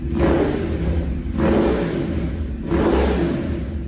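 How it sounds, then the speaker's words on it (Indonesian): A Ducati motorcycle engine revs in three repeated surges, each a loud rising burst that eases off before the next, close up with no talk. "Sedangkan Ducati ya begini."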